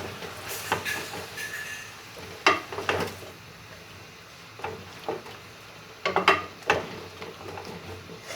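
Potatoes and tomatoes frying in a pan while being stirred for an aloo shimla mirch dish; a steady low sizzle runs under irregular spatula scrapes and clacks against the pan, several clustered knocks near the end.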